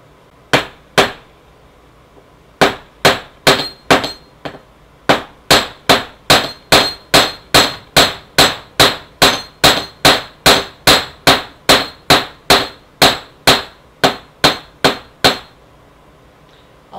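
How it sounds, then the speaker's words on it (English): A ball peen hammer strikes metal wire in steady, ringing blows, about two per second, with a few brief pauses, each hit sharp and close, while shaping a wire-wrapped pendant. "I'll hold my wire steady right here as I hammer"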